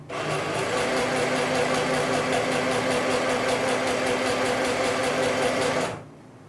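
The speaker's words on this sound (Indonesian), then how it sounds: "Sekarang kita jahit kampuhnya yang sekarang yang kedua 1 cm ya." A sewing machine runs one continuous burst of rapid, even stitching along a 1 cm seam on a pair of short pants, close and steady, then stops abruptly; no talking.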